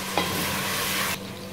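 Pieces of taro (arbi) fry in hot oil in a pan, giving a steady, close sizzle with a brief scrape near the start that drops away sharply near the end.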